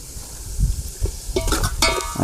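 Spiced tempering for bottle gourd dhokla, with coriander-cumin powder, sizzles in a pan: soft stirring scrapes first, then bright crackling bursts of frying that swell and fade over the last second, with no talk.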